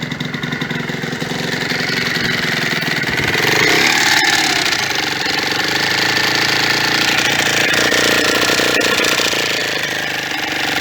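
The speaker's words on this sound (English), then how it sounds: "Oh, still on the choke. It's a cold day, let's warm up." Yamaha DT motorcycle engine running on choke on a cold day, a loud, close, steady two-stroke idle with a rough buzzy drone and a brief rise in revs partway through, no talking.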